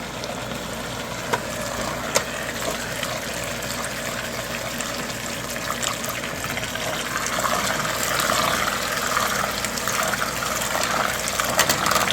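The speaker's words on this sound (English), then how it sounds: "So here's another 2 cups of water." Water streams steadily into a cooking pot for polenta, a continuous close gushing pour that holds at a fairly even level for about twelve seconds.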